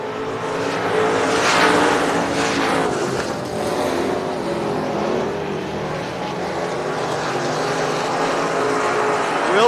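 Race cars on the front straightaway of a Texas speedway during a 600-class oval race, a loud continuous engine roar with passing surges as several cars run door to door; no talk over it.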